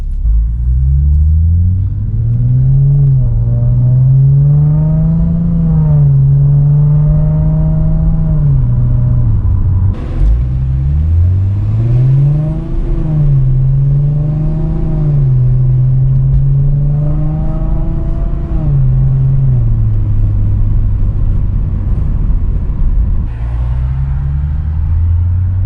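A Lexus IS350 with an Invidia catback exhaust revs repeatedly, loud and close, its deep exhaust note climbing and falling in long sweeps, with a brief break partway through.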